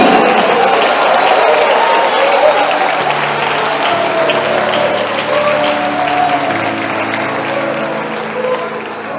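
A church congregation claps and applauds together in a steady, dense wash of clapping that stays loud throughout, with faint voices mixed in beneath.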